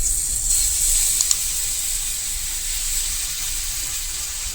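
Vegetable pudla batter hisses and sizzles on a very hot oiled tava, a steady bright frying hiss that holds evenly throughout with a couple of faint clinks near the start.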